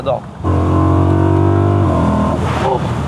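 A 16-year-old naturally aspirated BMW engine revs hard and holds a loud, steady droning note for a couple of seconds, then drops away as speech-like sounds come in near the end.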